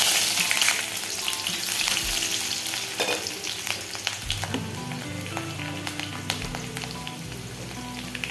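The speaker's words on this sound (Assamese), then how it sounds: "তেলত দি দিছোঁ শুকান জলকীয়া, লগত দিছোঁ এয়া পাঁচফোৰণ। আৰু ইয়াত দি দিছোঁ কাটি থোৱা পিঁয়াজ" Dried red chillies, panch phoron and chopped onion fry in hot oil in an Assamese kitchen, a steady close sizzle and crackle with occasional stirring scrapes and pops, no voices.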